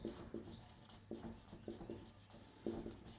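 A teacher writing on a board, making faint, close strokes in short rhythmic bursts with brief pauses between them and no speech.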